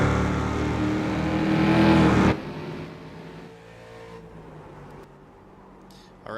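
The engine of a GSRC Mustang race car roars loudly on track at Watkins Glen, then cuts sharply to a quieter, distant hum and faint in-car noise.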